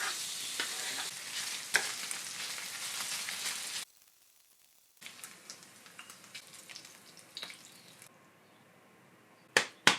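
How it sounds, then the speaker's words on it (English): Bacon fries in a pan for cauliflower soup, a dense bright sizzle with occasional stirring clatter, cutting out briefly midway and resuming with sharp knocks near the end. "meanwhile in other pots and pans, fry the bacon"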